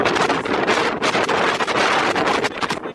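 Strong stormy wind roars and buffets the microphone continuously, a loud, dense rushing noise with gusty surges throughout.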